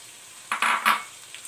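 Blended roasted masala hits a pan of frying mixed vegetables (potato, peas, carrot) with a short burst of loud sizzling and a clatter of utensils, then settles back to a quiet hiss.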